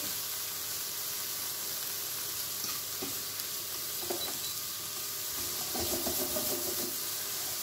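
Chicken fillet pieces browning in a pan for a curry dish, with a soft, continuous sizzle and a few faint stirring scrapes, close but quiet, and no voices.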